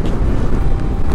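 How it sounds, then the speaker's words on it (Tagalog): Strong gusting wind from Typhoon Ulysses in Bulacan buffets the microphone in a brief, loud burst of rough low-pitched rumbling. "Lakas ng hangin, kaya mahirap magpaan."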